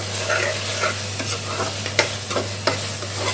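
Ginger garlic paste stirred and sautéed in hot oil for chicken biryani, a steady sizzle with scraping stir strokes and a few sharper clinks, no voices.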